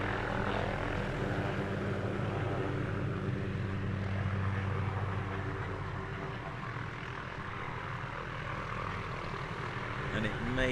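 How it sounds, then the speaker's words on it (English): A helicopter flies near an aerobatics championship airfield, its steady rotor and engine drone holding loud and continuous throughout, with a faint hint of propeller aircraft mixed in. "Helicopter will be gone momentarily."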